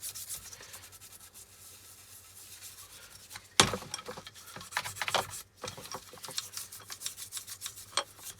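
A toothbrush scrubs rust off a Stanley No78 rebate plane in quick, gritty bristle strokes, quiet at first and then louder and more vigorous, with a brief metallic knock partway through.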